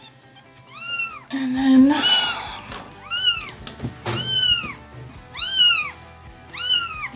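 A tiny young kitten gives repeated high, arching meows during a bath, loud and close, with a person talking briefly and some splashing and handling noise in between.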